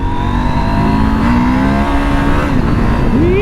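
A Husqvarna Norden 901 motorcycle engine pulls hard under acceleration, its loud, steady drone climbing in pitch through the gears, heard close up with constant wind roar and no voices.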